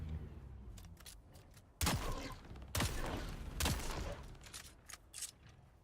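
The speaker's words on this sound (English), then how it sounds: "the snub-nose is basically like a hand cannon. Here, I'll fire off a random shot." A snub-nose pistol, a hand-cannon-style revolver in the video game Dune Awakening, fires with sharp, loud cracks: three distinct shots spaced about a second apart over faint ambient game noise.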